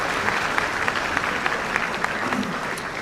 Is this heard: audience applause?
yes